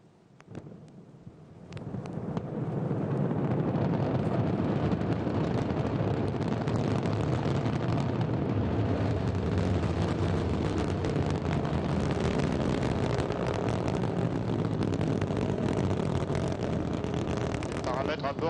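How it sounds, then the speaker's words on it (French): An Ariane 5 rocket lifts off on flight VA203 carrying the ASTRA 1N and BSAT-3c/JCSAT-110R satellites, its Vulcain engine and solid boosters firing. A deep roar swells within about two seconds and then holds as a loud, steady rumble. "Ariane 5 a décollé et en 40 secondes, le lanceur a déjà dépassé Mach 1."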